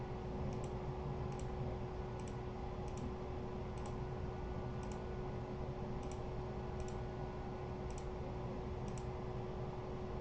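Computer mouse clicking while working in Fusion 360 design software: single faint clicks at a steady, unhurried pace, roughly one per second, over a constant background hum, with no talking.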